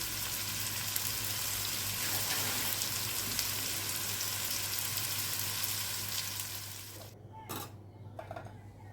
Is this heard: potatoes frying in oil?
yes